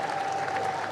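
An audience at a church plenary assembly gives a brief, even burst of dense applause, with a faint steady tone ringing underneath.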